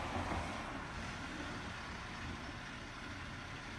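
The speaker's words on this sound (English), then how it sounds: "that's the garbage truck that you hear." A garbage truck rumbles outside a window, a steady, broad low-frequency engine drone that holds level for a few seconds with no talk over it.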